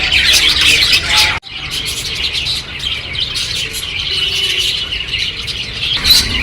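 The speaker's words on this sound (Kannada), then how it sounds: "ಕಿಲಿ ಕಿಲಿ ಅಂತಿದೆ. ಇಷ್ಟೊಂದು ಲವ್ ಬರ್ಡ್ಸ್ ಇದೆ" Lovebirds in an aviary at the Subrahmanya Swamy temple chatter continuously in a dense, high-pitched flock, with overlapping chirps and tweets, a brief drop-out early on, then steady chatter again.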